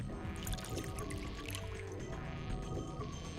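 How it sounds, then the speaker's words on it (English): Ethanol poured into a beaker as a video game sound effect: a continuous liquid trickle with small drips and splashes, steady and moderately quiet throughout. "next I need to pour the ethanol into the beaker"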